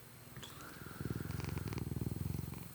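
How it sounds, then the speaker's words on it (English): A big fat cat named Ichabod purrs close into a microphone while sitting on a lap, a steady rhythmic rumbling purr that grows louder after the first second and continues alone. "He's purring. You may hear him in the mic."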